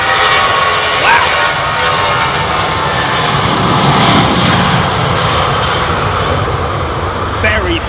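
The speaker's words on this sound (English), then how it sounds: "So that means this 380 could make a noise." Airbus A380 jet engines roaring at London Heathrow Airport, a loud steady broadband rumble and whine that holds throughout, with people talking over it.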